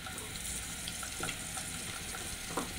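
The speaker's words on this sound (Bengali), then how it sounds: "আমি এখন পেঁয়াজ কুচি দিয়ে দিচ্ছি।" Chopped onion fries in hot mustard oil with a steady, close crackling sizzle and a few faint stirring clicks, with no voices.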